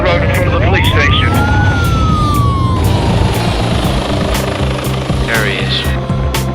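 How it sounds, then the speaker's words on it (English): Police helicopter rotor drone runs steadily throughout, near and loud, with a siren rising and falling over it and a short warbling siren burst near the end, as a police pursuit on the road below is tracked from the air. "a second helicopter is already being scrambled"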